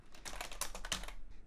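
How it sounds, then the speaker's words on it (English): Keys on a computer keyboard clatter in a quick, uneven run of close, moderately loud taps, with no voices. "as I'm typing"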